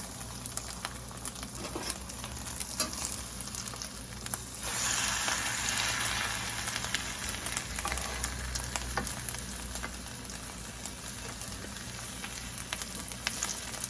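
Egg foo yong sizzling steadily in a pan, a continuous close frying hiss that grows a little louder partway through, with faint scraping as the thin egg is folded over.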